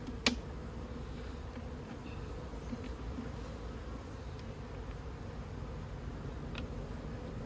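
Honey bees swarm around a hive during a cutout, a steady, close buzzing drone that continues throughout, with a sharp tap near the start.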